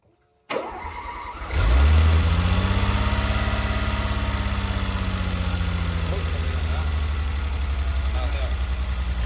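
An exotic sports car, long stored and rotting, cranks over and catches, then settles into a steady, rumbling idle that runs on evenly at close range.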